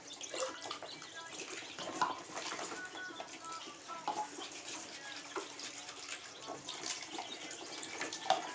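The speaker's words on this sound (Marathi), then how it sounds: "या पाण्याचं भांडं हे आता आपण अशा प्रकारे सफा करणार आहोत" Water splashing and running as a chicks' drinking container is rinsed and scrubbed, steady close splashing with small knocks, while faint bird chirps sound in the background.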